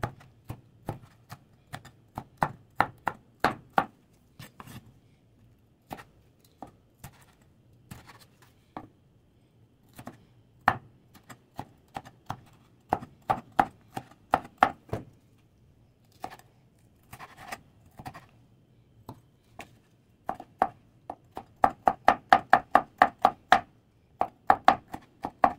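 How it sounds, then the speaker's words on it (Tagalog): Knife chopping cuttlefish into small pieces on a board, a long run of crisp, quick strikes in uneven bursts, close and fairly quiet, speeding into a dense rapid flurry near the end. "Hihiwain na natin ang mga maliliit."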